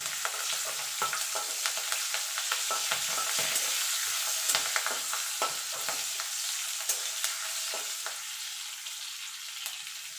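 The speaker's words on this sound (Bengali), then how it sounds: "দিয়ে ফোড়নটা একটু ভালো করে ভাজা করে নেবো, যতক্ষণ ফোড়ন থেকে সুন্দর একটা গন্ধ না বেরিয়ে আসছে।" A Bengali spice tempering fries in oil, a bright steady sizzle with frequent sharp crackles and scraping stirs, close and continuous with no talk.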